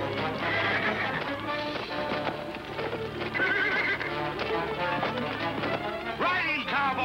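Horses at a rodeo whinny repeatedly over busy hoofbeats, with loud neighs rising and falling amid clattering hooves and background activity.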